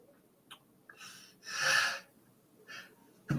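A single human sneeze with a sharp intake of breath beforehand, close and fairly soft, set among quiet breathing and small snorts in an otherwise still room.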